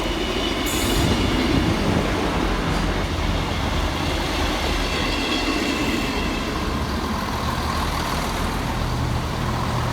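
Scotrail class 170 unit 170471 pulls out of Edinburgh Haymarket, a steady loud rumble of engine and wheels on rail with faint clicking and a brief high squeal early on, no voices.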